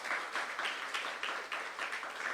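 A church youth-service congregation claps, a soft, steady wash of applause at moderate distance that rises and dips slightly in rhythmic pulses, with no voices over it.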